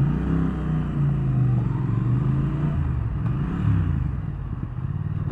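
A 2019 Triumph Thruxton R 1200 motorcycle on its stock exhaust pipes, a deep throaty rumble holding steady and close throughout, with the engine note swelling slightly toward the end.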